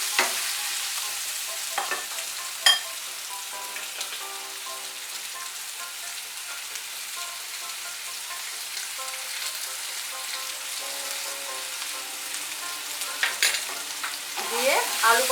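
Potatoes and pointed gourd with turmeric and salt fry in a pan, giving a soft, steady sizzle with occasional stirring scrapes and clinks, fairly quiet and with no talking.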